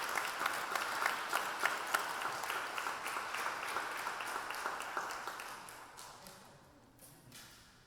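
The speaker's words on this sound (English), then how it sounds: "let's give them all a round of applause" Audience applause for candidates at the Alvin/Manvel area candidate forum in a Manvel High School facility, a steady round of clapping that tapers off toward the end.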